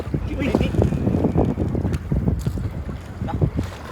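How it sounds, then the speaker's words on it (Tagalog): Strong northeast monsoon wind sweeps over the open sea around a boat, a steady gusting roar with choppy rumbling bursts, while people talk intermittently. "Lalo lumalakas yung hangin, amihan."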